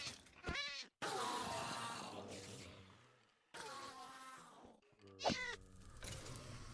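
Cat meows in Minecraft heard in a few short game-style bursts, fairly loud, spread across the stretch with breaks of near silence between them.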